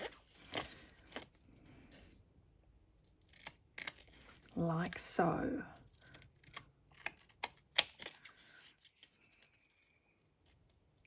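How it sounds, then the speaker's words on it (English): Long-blade scissors trim tape off its paper backing during a gilded leafing class, making a few quiet, crisp snips in a hushed room, with a brief spoken remark. "they just trimmed it off the paper like this."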